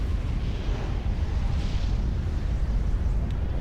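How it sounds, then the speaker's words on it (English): A continuous, loud rumbling blast from a Supreme Commander battle, with a broad low roar and crackle sustained throughout and no single sharp onset. "Another explosion."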